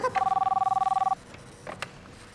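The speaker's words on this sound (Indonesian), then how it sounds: "Tuh ada telepon Mas Mul, angkat." A telephone rings with a rapid electronic trilling burst that lasts about a second in a quiet room, followed by faint movement.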